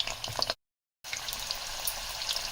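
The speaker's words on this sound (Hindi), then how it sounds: "स्टफ मिर्ची को फ्राई करेंगे" Stuffed green chilies with gram flour frying in oil over a low flame, a soft continuous sizzle broken by a brief gap of silence.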